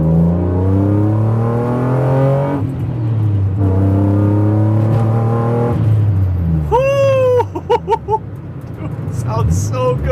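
A damaged BMW E36 M3 being rebuilt revs its engine through a new exhaust in several rising and falling pulls, loud and close, followed by shorter, choppier sounds toward the end.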